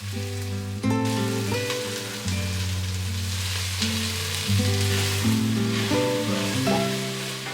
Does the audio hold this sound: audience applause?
no